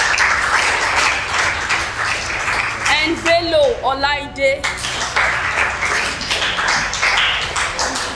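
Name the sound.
audience clapping for student debaters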